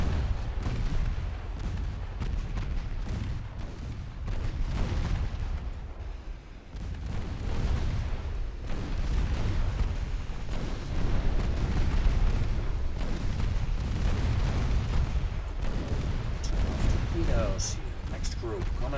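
Naval gunfire and torpedo hits in the warship game Ultimate Admiral Dreadnoughts, with repeated heavy booms and rumbling blasts rolling almost continuously, loud and dense throughout.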